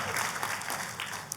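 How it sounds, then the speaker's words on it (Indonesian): A church congregation applauding during an Indonesian sermon, a dense wash of clapping from many hands that fills the space evenly and eases off slightly near the end. "Ayo kita kasih tepuk tangannya pula yang paling meriah buat Tuhan kita."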